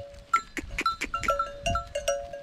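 Lambs on a village farm bleat in a short series of thin, wavering calls, close and moderately quiet, mixed with light clicks and shuffling.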